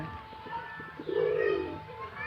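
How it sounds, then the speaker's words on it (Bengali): Pigeons at a nesting area give a soft, low, rolling coo from close by, a single drawn-out call rising out of faint background noise. "খুব সুন্দরভাবে কবুতরগুলো কে দেখা যাচ্ছে"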